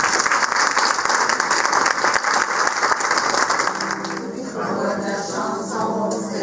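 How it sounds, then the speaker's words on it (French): Applause from an audience honouring volunteers at a volunteer-week event, loud dense clapping filling the first four seconds, then fading as music with singing takes over. "Alors, on les applaudit."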